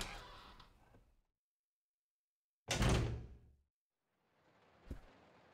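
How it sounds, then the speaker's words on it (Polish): A door in the Resident Evil 0 HD Remake video game opens on a train: a rumbling slide, silence, a heavy scraping thud, then a softer shuffle ending in a sharp knock. "Czekajcie, bo tutaj mamy jakieś drzwi."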